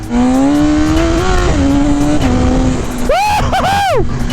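A BMW S1000RR sport motorcycle accelerating hard with its quick shifter, engine note climbing steadily and loudly, then rapid upshifts near the end with sharp pitch drops and a rising whine between them, close and continuous with wind noise.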